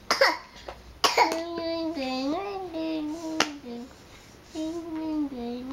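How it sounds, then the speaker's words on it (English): Two sharp coughs ring out near the start, followed by a drawn-out, sing-song voice talking nearby to a baby. "Cough, cough."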